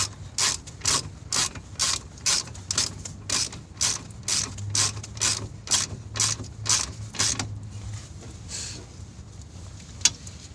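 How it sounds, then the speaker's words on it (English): A breaker bar tightens hub bearing bolts on a 2006 Equinox, producing a regular series of about fifteen sharp ratcheting clicks in quick rhythm, close and clear, followed by a couple of scattered clunks. "I tighten mine down with my breaker bar"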